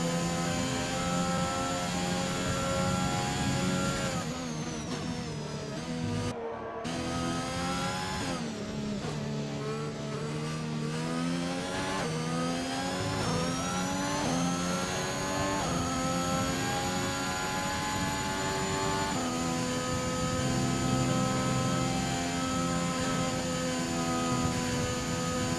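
A racing car engine screams steadily on an onboard lap of the Britain circuit in a racing video game, rising and falling through gear changes with a brief cut near the start, loud and continuous with no talk.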